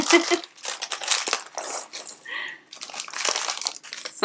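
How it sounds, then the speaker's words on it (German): A plastic bag holding LEGO City Safari-Jeep pieces is torn open and crinkled close by, in repeated loud rustling bursts, with loose bricks shifting and a voice speaking briefly. "Machen wir mal Tüte 1 kurz auf, damit wir mit dem Bauen starten können"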